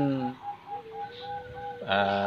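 Zebra dove (perkutut) cooing close by in a series of soft, rhythmic hollow notes, ending in a louder rolling coo, with a person speaking at the same time.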